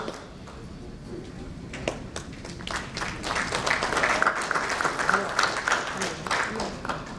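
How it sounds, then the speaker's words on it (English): Audience applause at a finance panel discussion on treasury and risk management, a light scattered patter of clapping that builds and carries on steadily under a host's voice. "A big round of applause, ladies and gentlemen, Mr. Debasis Nandy."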